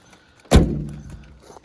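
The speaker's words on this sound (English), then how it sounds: "Listen to that door close." Door of a 1963 VW Beetle swinging shut with a single solid, close thunk, followed by a short fading rattle and resonance, with no talking.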